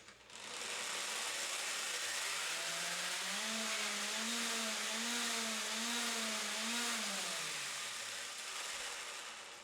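A motor drives a 3D printed gearbox weighted down on a workbench, giving a loud continuous whine that rises in pitch, holds steady at high speed, then winds down near the end.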